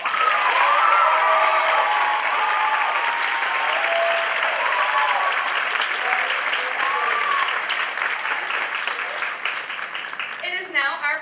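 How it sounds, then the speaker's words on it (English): An audience at a theater gala applauds loudly and steadily, the clapping thinning slightly toward the end as a voice begins speaking. "Let's give her a round of applause."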